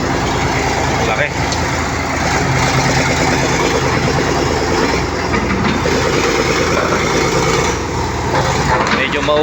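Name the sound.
Caterpillar 320 excavator engine running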